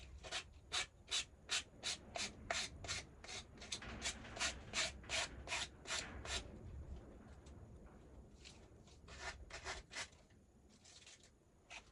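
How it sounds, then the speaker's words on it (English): Sandpaper rubbed over a freshly glued, still-damp coffee-dyed paper towel bookmark, a quick run of regular scratchy strokes that later turns into sparser, uneven rubs, close and fairly quiet with no talking. "I'm gonna go ahead and sand this one."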